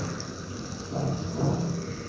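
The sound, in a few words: moong dal mangochi fritters frying in hot oil in a pan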